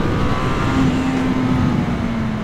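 A 1000cc 2019 Honda CB1000R motorcycle engine drones steadily and fairly loud, a continuous close-up roar with a faint rising tone as it is pushed, no talking over it.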